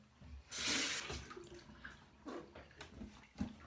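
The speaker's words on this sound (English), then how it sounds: "I'm gonna rinse this off" Water runs in a brief rushing burst from a tap while a razor is rinsed off, then trails into quieter drips and light splashes.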